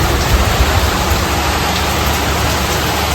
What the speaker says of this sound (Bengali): বিশাল বৃষ্টি হচ্ছে বিশাল আর হাওয়া দিচ্ছে প্রচন্ড